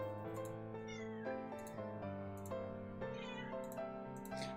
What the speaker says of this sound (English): She's meowing a lot.